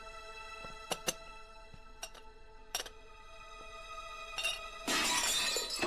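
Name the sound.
cup breaking accidentally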